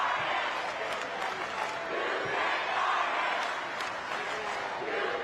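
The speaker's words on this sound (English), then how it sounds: "Listen to this crowd." Crowd at a state championship high school basketball game roaring and yelling in a sustained loud wall of noise, with voices shouting through it.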